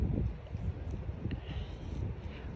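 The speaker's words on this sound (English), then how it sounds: "Oh, it's a bit windy." Wind gusting and buffeting across a microphone outdoors, a steady low rumble with fluctuating puffs throughout, no voices.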